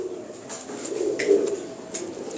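Teddy pigeons cooing softly and repeatedly in a low, throaty murmur, with faint chirps and rustling around them at close range.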